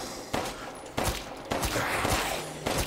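Gunfire in Resident Evil Village: a string of sharp shots roughly every half second to second, each a broadband burst with a ringing tail, loud and close throughout.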